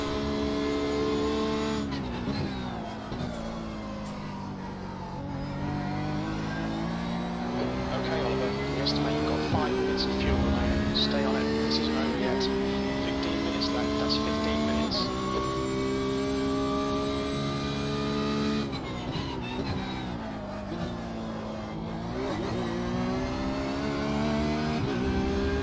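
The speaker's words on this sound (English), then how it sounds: "I enjoy driving this Porsche, but I don't like how it behaves on the curbs" A Porsche race car in the iRacing sim rounds a curvy circuit, engine note rising and falling steadily through gear changes and corners, with a voice talking over it throughout.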